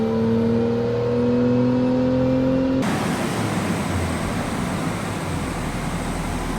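Porsche Carrera 991.2 engine on a dyno, a loud steady tonal whine holding for about three seconds before giving way to a broad, rough roar of wind and engine that continues to the end.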